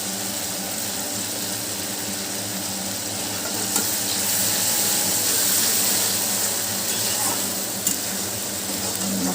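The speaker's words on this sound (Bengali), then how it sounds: "মশলাটাকে ভালো করে কষাবো।" Masala fries in a pan for a cauliflower kofta curry, a steady loud sizzle with scraping stirring strokes and a couple of sharp utensil knocks on the pan.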